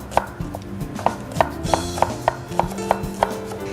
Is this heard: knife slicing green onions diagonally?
yes